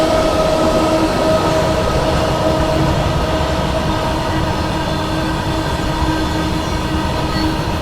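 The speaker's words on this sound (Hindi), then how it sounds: "ये नेताजी एक्सप्रेस हो सकती है, टाटा नगर जम्मू तवी" Netaji Express, a Tatanagar to Jammu Tawi passenger train on Indian Railways, rushes past up close with a loud, continuous roar of wheels and coaches, steady rail rumble and faint squealing tones, no voices.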